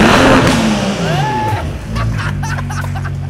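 A BMW's engine revs loudly through its exhaust, rising and falling close by, with people talking and exclaiming over it.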